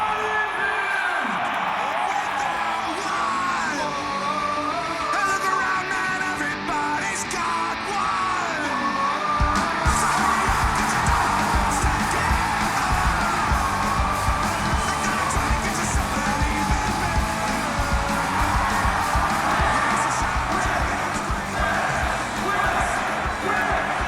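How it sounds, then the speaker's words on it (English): A big arena crowd at a Nitro Circus Live show roars, yells and chants for wheelchair rider Aaron Fotheringham, the noise swelling sharply partway through into sustained rhythmic cheering. "whole crowd chanting, the whole crowd"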